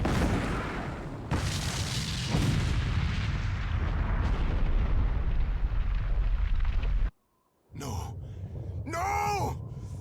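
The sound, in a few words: explosion in the video game Eiyuden Chronicle: Hundred Heroes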